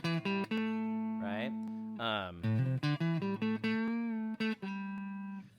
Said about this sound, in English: we're talking about kind of a clean guitar